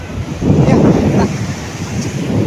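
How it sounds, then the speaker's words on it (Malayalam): Surf rushing up onto the shore in a continuous roar, buffeted by heavy wind noise on the microphone. "കടൽ അടിച്ച് കയറി വരുന്നുണ്ട്"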